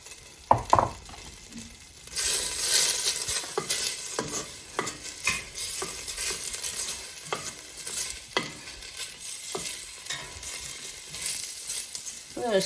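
Three small garlic cloves stirred in a frying pan, with a steady sizzle and frequent scraping and clinking of the utensil against the pan, close and fairly loud, with no talking.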